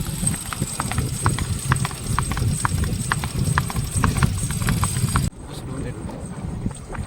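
A mare's hooves clip-clop in a steady walking rhythm, close and distinct, with a background hum that drops out abruptly near the end.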